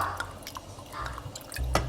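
Premium Japanese sake poured into a pot of canned beef soup, giving a brief near liquid splash with faint drips and bubbling in a quiet kitchen.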